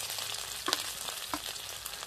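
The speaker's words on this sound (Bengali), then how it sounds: "ভালো করে নাড়বো" Ginger paste and green chilli frying in hot oil while being stirred, a continuous close sizzle with periodic scraping strokes of a spoon against the pan.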